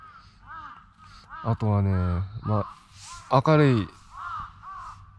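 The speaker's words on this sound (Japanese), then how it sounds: "こんな感じでカラスが 鳴いてたりとか" Crows caw loudly and nearby at a Hokkaido campsite around six in the morning, several harsh drawn-out calls in two bursts, while someone speaks quietly between them.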